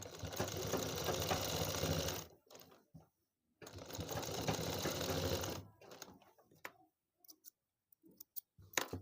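A sewing machine runs two loud, steady bursts of stitching to reinforce the cut corners of a round handbag, separated by a short pause, followed by scattered clicks and taps of handling.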